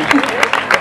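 A short burst of audience clapping at a gala stage show, with a loud voice calling out over the claps.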